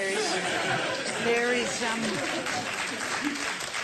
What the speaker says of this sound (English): Scant applause for a cheap point.